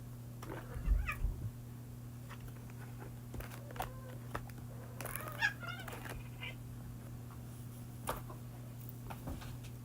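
A cat named Alley Cat meows and yowls in several drawn-out cries over a steady electrical hum, with scattered taps and bumps nearby.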